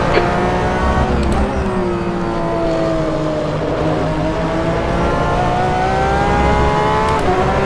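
A Porsche 911 RSR GTE race car engine in rFactor 2 at Portimao drones loud and steady, its pitch sweeping slowly down then climbing again under sustained throttle, with brief gear-shift blips and no talk.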